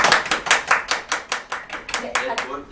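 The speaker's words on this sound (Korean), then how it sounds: "박수 부탁드립니다" Audience clapping to welcome a guest lawyer onto a Korean talk show, a burst of applause with sharp, uneven claps rising and fading in waves, loud and close with no talk over it.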